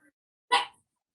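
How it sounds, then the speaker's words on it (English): A single short, sharp dog bark from the background of a hair salon during a dry haircut, heard alone in otherwise near silence. "Who doesn't love dog barking in the background?"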